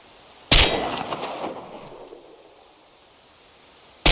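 A loud gunshot fired at targets in the video game Chernobylite, with a sharp crack followed by a long fading echo, and a second shot starts right at the end.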